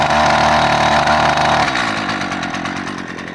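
A gas string trimmer, a Stihl 56 or Husqvarna 128, catches after its pull cord and runs loudly with a high buzzing whine, then the engine note drops and settles toward a rougher idle.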